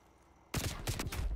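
Sudden burst of rapid gunfire in Call of Duty: Black Ops Cold War, erupting after a quiet moment into a loud, close volley of quick shots that continues to the end.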